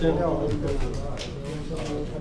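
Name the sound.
pigeons flying over a rooftop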